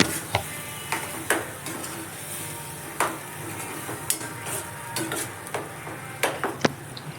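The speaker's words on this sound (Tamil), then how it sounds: "வெங்காயம், அந்த மசாலா எல்லாமே நல்லா ஒன்றா சேர்கிற மாதிரி நல்லா வதக்கி விடலாங்க" Onion and ground masala sizzle in a pan for chicken gravy while a spoon stirs and scrapes the bottom in repeated short strokes over the constant frying hiss.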